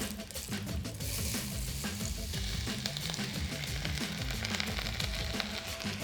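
Roughly chopped courgettes and aubergine hitting hot olive oil, a loud, dense, continuous sizzle that flares as the vegetables go in and then holds steady and close, with a busy crackling texture and no voices.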